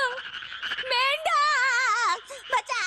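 Cartoon frogs croak in a run of loud, wobbling, warbling calls, several overlapping in quick succession across a few seconds, close and clear with no talk.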